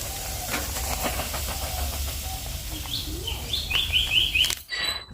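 Semolina cooks in a spoonful of ghee in a hot kadai in a village kitchen, giving a steady close hiss. Birds chirp faintly in the background before a brief louder clatter and an abrupt cut.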